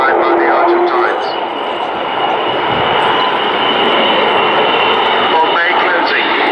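Avro Vulcan XH558 jet bomber flies past at a Dunsfold display, a broad, steady jet roar that holds at a distance throughout, with voices talking over it.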